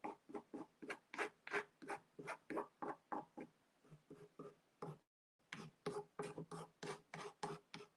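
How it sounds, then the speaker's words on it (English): Scraping paint along the edges of an angel painting where blue and white meet, a steady series of short, rhythmic rasping strokes, close and fairly quiet, with one brief pause midway. "just scrape it here on the edges"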